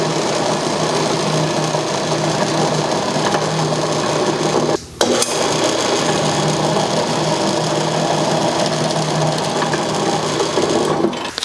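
A drill bit bores into plastic during a repair, giving a loud, steady whirring grind that runs almost nonstop, broken by one very short pause partway through.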